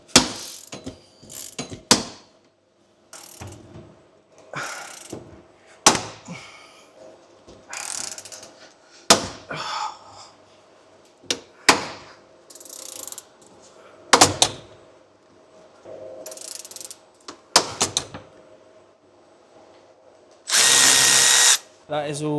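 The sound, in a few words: ratchet tool cranked to punch holes in busbar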